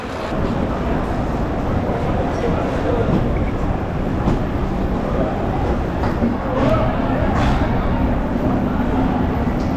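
Steady rumbling hum and clatter of the Darjeeling Mail at a platform, with a busy station murmur and occasional louder knocks throughout.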